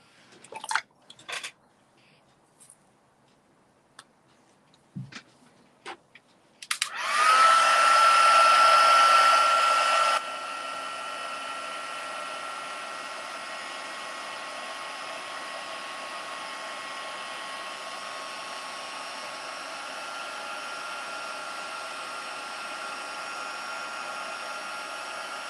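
A handheld hair dryer dries ink on paper, switching on after a few faint taps and clicks, roaring loudly for a few seconds, then settling to a steady, softer blowing hum that continues to the end.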